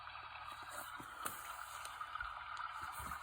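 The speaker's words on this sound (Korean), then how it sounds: "이런 시냇물 소리도 좀 듣기 좀 그렇잖아요" A small speaker built into an eye massager plays a recorded flowing stream, a steady, thin trickle of water with a few faint clicks, fairly quiet and heard alone.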